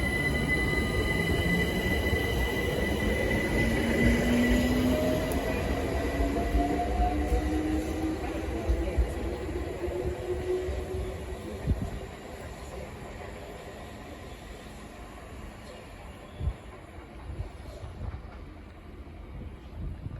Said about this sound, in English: departing now is the 1241 Windrush line service to Clapham Junction.